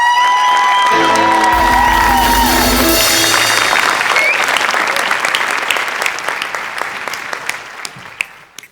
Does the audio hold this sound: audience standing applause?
yes